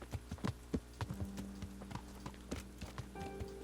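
Horse hooves clip-clop in Kingdom Come: Deliverance, a run of distinct, fairly faint steps in an uneven walking rhythm over a low ambient bed.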